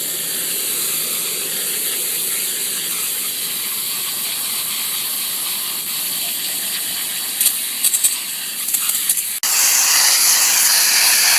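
A loud, steady hiss of a water spray blasting soil from the roots of a potted tree, continuous and close, with a few brief mechanical clicks and a shift in the spray's tone near the end.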